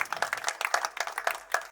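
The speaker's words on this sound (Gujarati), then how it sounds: "આપણે તાળીઓથી જ નવાજીશું" Audience clapping at a Gita Jayanti 2024 gathering at Seva Ashram Trust in Taiyabpura, honoring the guests: a short, dense round of hand claps with uneven rhythm, fairly close and steady for under two seconds.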